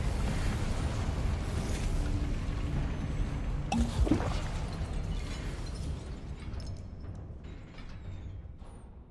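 Incendio and Confringo spells erupt in Hogwarts Legacy, a continuous loud fiery rumble with a sharp crackling burst in the middle, then the roar thins and tapers off into quieter crackles.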